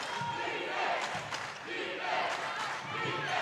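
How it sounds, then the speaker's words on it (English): Navarro fans at a girls' high school playoff basketball game roar in a steady, fairly distant crowd wash, rising and falling with scattered shouts under the gym noise. "The Navarro crowd into it now."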